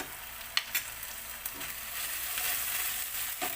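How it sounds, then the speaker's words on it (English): Ginger garlic paste frying with cooked onion in a pan for a paneer vegetable stir fry, giving a steady, close hiss of sizzling oil broken by a few soft stirring clicks and scrapes. "Now it's time for us to add our ginger garlic paste"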